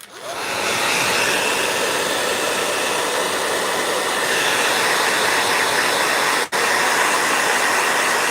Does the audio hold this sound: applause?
no